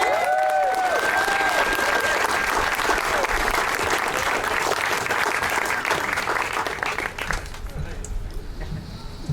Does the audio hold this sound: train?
no